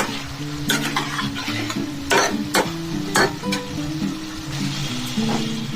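Soybean chunks sizzle in oil in a pan with pumpkin and potato curry makings, the frying hiss steady while a spoon scrapes and stirs in repeated close strokes.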